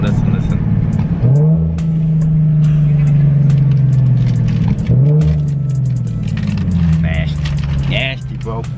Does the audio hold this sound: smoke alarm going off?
no